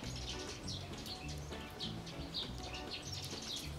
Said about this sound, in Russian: У нас тут птички поют.